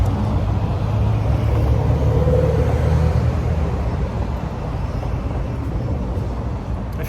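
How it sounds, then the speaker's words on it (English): Steady roadway traffic with cars passing by, a continuous loud low rumble of engines and tires that swells and eases slightly without any clear break. "I'm getting rid of the miscellaneous cars driving by, the traffic noise."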